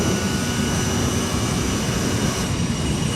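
Simulated CRJ900 jet engines in Microsoft Flight Simulator 2020 give a steady, loud, broadband roar and whine, continuous throughout with no variation and no voices.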